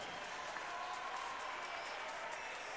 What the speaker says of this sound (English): How about a round of applause here for our top three